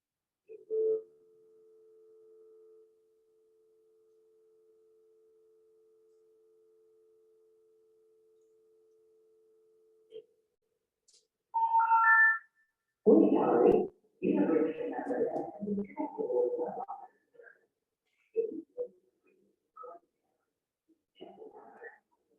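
A long steady telephone tone hums for about ten seconds at a fixed pitch on a recording, followed by a short chirp and then a voice speaking in bursts.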